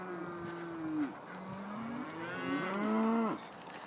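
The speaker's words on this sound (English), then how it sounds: "Attack of the cows." Cows in an open field give several long, drawn-out moos, one after another, some overlapping, heard fairly close with outdoor background noise.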